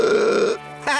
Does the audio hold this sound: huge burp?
yes